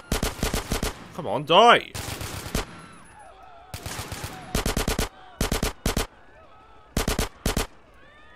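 AK rifles fire in Grand Theft Auto San Andreas, loud rapid bursts of automatic shots in repeated volleys with short gaps between them, while a person speaks briefly in the middle.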